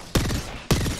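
Two loud, close gunshots from a Kraber sniper rifle in Apex Legends, each a sharp crack followed by a short rumbling tail, about half a second apart.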